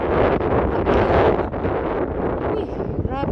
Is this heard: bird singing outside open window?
no